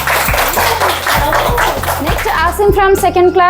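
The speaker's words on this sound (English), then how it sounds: "Claps for her." Audience applause rings out for a student at a school English spelling bee, steady clapping filling the room while an announcer speaks over it and calls the next child.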